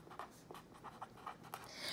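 Pencil or pen writing a name on paper in a classroom-style lesson, heard as short scratchy strokes in an irregular rhythm, close and fairly quiet with no talking.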